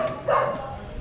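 Dog at a house giving a single short, mid-pitched bark or yip, fairly close, against a faint background hum with no talk.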